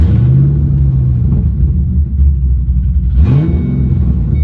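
A car engine idling roughly and unevenly after being jump-started from a portable jump pack, a loud continuous low rumble with a brief rev near the end.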